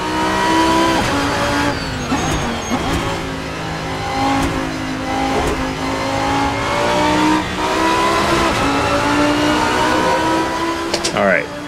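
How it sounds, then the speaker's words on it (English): V10 engine of the GT-M race car in Assetto Corsa, roaring loud and close as it revs up and down through repeated shifts and braking, with a commentator talking over it. "And there's no getting past that V10 engine."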